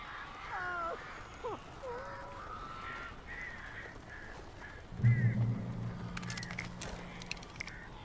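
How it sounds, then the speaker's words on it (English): Crows cawing in the video game Alan Wake, several harsh, rasping calls close together at first, then a low rumbling thud and scattered clicks, heard over a dim background. "These birds are weird."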